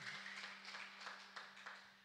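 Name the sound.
congregation clapping for God in church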